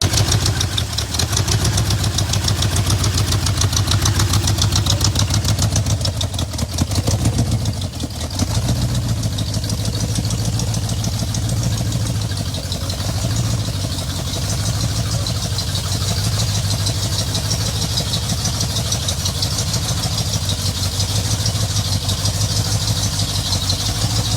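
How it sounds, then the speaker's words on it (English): A 1927 Ford rat rod hot rod powered by a 375 HP Cadillac engine idles steadily with a deep, lumpy throb, loud and close, holding an even rumble for over twenty seconds with a brief dip midway. "A raw and aggressive 1927 Ford Rat Rod, this machine is built for pure attitude and straight-line performance"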